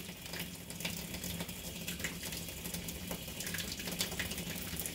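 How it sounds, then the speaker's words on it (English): Water streams steadily out of an aqua water bag drain, a continuous splashing gush heard up close without a pause. "This is how you drain your water bag."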